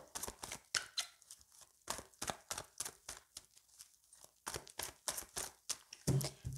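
Tarot cards being shuffled by hand give quick, rhythmic bursts of papery slaps and flutters, close up and repeated many times with brief pauses between.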